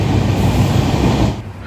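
A passenger train in motion gives a steady, loud low rumble with faint rhythmic clatter, heard close up from on board and briefly easing toward the end.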